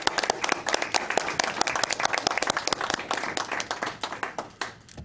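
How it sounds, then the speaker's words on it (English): People at a school board of education meeting give a round of applause, a dense, even burst of clapping that lasts about five seconds and tapers off at the end. "How about a round of applause for them?"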